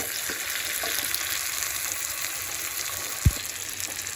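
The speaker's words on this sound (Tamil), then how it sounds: "அப்படியே வதக்கி விடுவோம்." Curry leaves and vegetables sautéing in an oiled pan give a steady close sizzle throughout, with one sharp clink of a utensil against the pan near the end.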